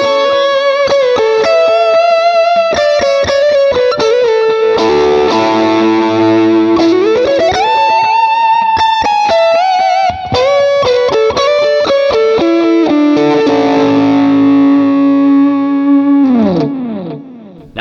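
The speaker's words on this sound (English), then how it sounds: "Now I'm going to bypass all of our modulation and add a drive pedal to our tone." An electric guitar played through a Fractal Audio Axe-Fx II XL+ with a tube drive pedal, giving a loud distorted tone with sustained notes, slides and bends across a continuous phrase.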